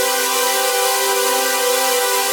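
Three layered hardstyle synth chords from FL Studio ring out as one thick, bright sustained pad, held steady and loud for a couple of seconds with no talking.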